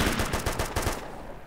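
Rapid automatic gunfire in the military shooter game Arma 2, a close, loud burst of about a dozen evenly spaced shots over one second that then cuts off, with no talk.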